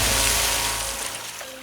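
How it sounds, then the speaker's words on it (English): A small brook flows in a palace garden, a soft continuous wash of running water, fairly near and steady with no voices. "a little brook that flowed there"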